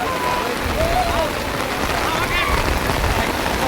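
Steady rain pours at Savlya Ghat, a foggy mountain pass near Devkund waterfall, a dense even hiss throughout with a few faint whistly tones over it.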